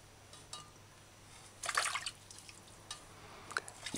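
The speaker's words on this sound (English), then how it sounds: "Just wash the ginger properly." Fresh ginger being rinsed in a bowl of water, soft drips and a brief splashy swish of handling in the middle, with scattered quieter drips around it, close and fairly faint.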